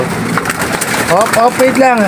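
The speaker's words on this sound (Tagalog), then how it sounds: "Mga gutom na mga kalapati." Hungry pigeons coo softly in a wavering, repeated pattern as they are fed, with low rustling and fluttering nearby as the flock crowds together.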